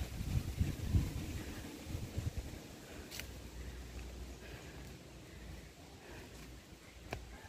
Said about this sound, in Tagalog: humangin na naman